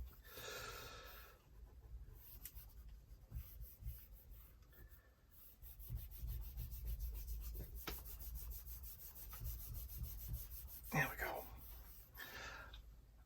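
A thumb rubs over paper on an art journal page after jelly printing, giving soft, intermittent scuffing strokes that sit faint and close under a person talking.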